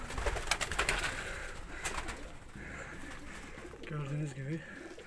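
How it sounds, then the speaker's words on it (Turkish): Pigeons coo in a derelict building, a soft rolling coo rising clearly near the end, with a few sharper bird calls and scuffles beforehand; quiet overall. "Yine güvercinler."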